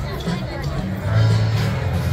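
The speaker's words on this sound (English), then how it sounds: "So the crowd is building up nicely." A crowd gathers at an outdoor wine festival with food trucks, a steady murmur of many voices blending into continuous hubbub, swelling slightly midway.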